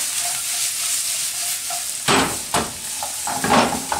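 Onions and garlic tossed into a hot pan over medium-high heat: a gentle sizzle at first, then a burst of louder frying and several scraping stir strokes, close and clear.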